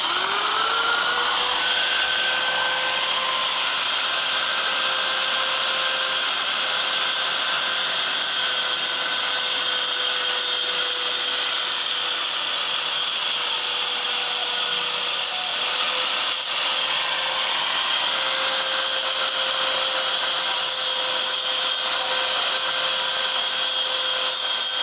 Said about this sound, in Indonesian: Kemudian saya akan menggunakan gerinda.